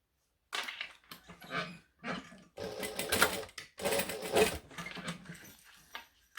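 A sewing machine stitching a bag, running in short, uneven bursts with brief stops between them, close and fairly loud, while the bobbin thread has run out.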